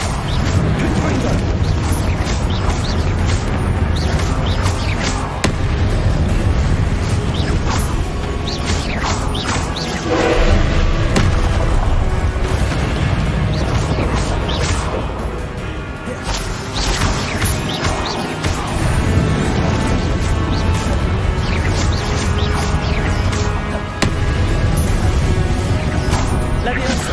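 Confringo blasting spell explosions in the game Hogwarts Legacy, repeated loud crashing blasts and impacts mixed with whooshes amid dense combat noise, with character voices calling out spells over the din.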